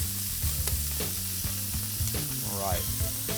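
Onions frying into soft translucent strands on a griddle beside burger sliders, a loud steady sizzle with scraping and a few sharp spatula clicks, no voices.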